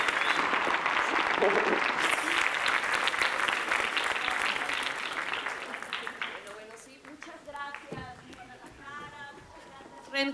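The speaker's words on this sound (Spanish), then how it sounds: "por favor, demos un aplauso a Samantha Salgado." Audience applause at the premiere performance of the musical Rent, thick clapping that fades gradually over several seconds as a voice begins speaking over it.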